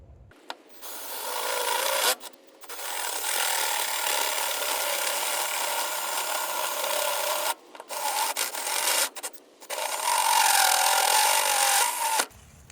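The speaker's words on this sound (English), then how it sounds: "So now we'll just drill it out." A drill bores out a hole in a door for a front door lock on a converted school bus, a loud grinding whir in long bursts broken by short pauses, with no talking.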